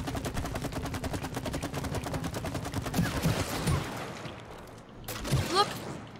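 Rapid gunfire from shooting in the video game It Takes Two, a fast run of repeated shots for about three seconds, then scattered bursts and a sharp blast, with voices briefly underneath.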